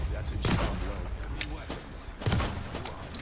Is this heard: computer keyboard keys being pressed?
no